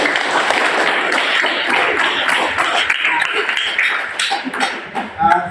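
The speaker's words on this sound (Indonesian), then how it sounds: "saya minta tepuk tangan buat kelompok 1" Schoolroom applause for a student group, with a sustained, busy crackle of many hands clapping close by. Voices and a few thumps mix in, and the clapping thins out toward the end.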